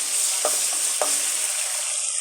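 Spice masala with ginger and garlic sizzles steadily in a pan, with two distinct scrapes of a spoon stirring it near the start, and no talk.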